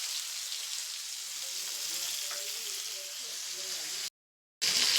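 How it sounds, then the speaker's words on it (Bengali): Fish frying in a wok (kadai), a steady, close, broadband sizzle with faint stirring, briefly cutting out before the hiss resumes. "এই দেখো, মাছ ভাজি চাপিয়ে দিয়েছি।"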